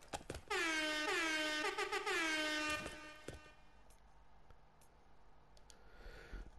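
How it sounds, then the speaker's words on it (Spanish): The honking horn emote from the Fortnite video game blares a loud air-horn style blast for a couple of seconds, repeating in quick pulses, then cuts off and leaves faint background noise. "y el gesto bocinazo"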